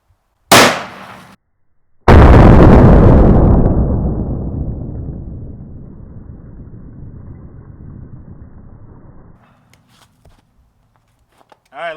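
A .500 Magnum revolver fires a 700-grain round into a block of ice: a sharp click, then one huge near blast that rolls off into a long decaying boom over several seconds.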